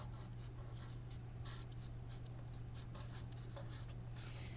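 A word being written by hand during a classroom writing lesson, soft scratchy strokes in short taps over a steady low hum, with no talking.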